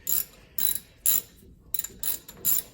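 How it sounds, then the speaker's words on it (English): A hand 10 mm ratchet loosens the bolts on the rear brake caliper slider pins of a 2018 RAM: six quick bursts of rapid metallic clicking, close and fairly loud, with short pauses between the strokes. "you're gonna go ahead and use a 10 mil ratchet to remove the bolts that are on these slider pins"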